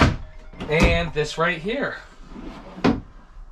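Drawers and cupboards thunk shut inside the kitchen area of a Grand Design Reflection 337RLS fifth wheel trailer, two or three short knocks mixed under someone talking close by.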